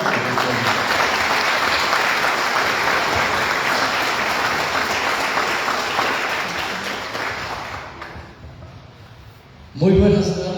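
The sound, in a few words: audience applause welcoming a speaker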